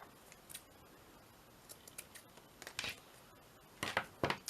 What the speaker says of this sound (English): Should I cut it there?